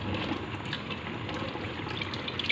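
Water gushes steadily over freshly cooked spaghetti being rinsed, a continuous close splashing pour with no voices over it.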